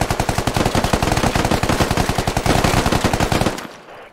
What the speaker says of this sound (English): Shots being used and reloading's happening.